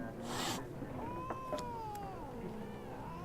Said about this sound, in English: Oh, kitty, why don't you like me?